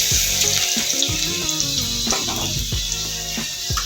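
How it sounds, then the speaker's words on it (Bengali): Garlic sizzles in hot oil in a wok, a loud, steady crackling fry with occasional scrapes and stirring clatter, close up and without voices. "তেলটা আমার গরম হয়ে গেছে, কড়াতে রসুনটা দিয়ে দিচ্ছি। রসুনটা ভালো করে ভেজে নেব।"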